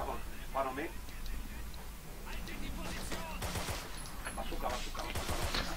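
Gunfire from a multiplayer World War II battle in the game Forgotten Hope 2 at the Meuse River, rapid volleys and bursts crackling at mid distance under steady battle noise, with a voice talking over it.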